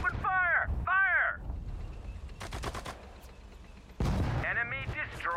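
Gunfire from the World War II strategy game Sudden Strike 4 comes in short, sharp volleys of rapid shots, set between shouted voice commands.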